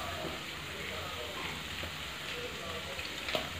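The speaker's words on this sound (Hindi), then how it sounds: "आँच को तेज कर लेंगे और प्याज को अच्छे से भून लेंगे" Onions fry in a pan over high heat, making a steady, fairly faint crackling sizzle with a few scattered pops.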